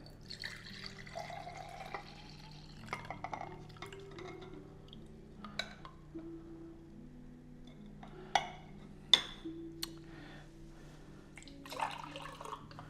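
Liquid cocoa pours and drips into a cup with soft splashes and scattered clinks of dishware, faint and close, with no talking.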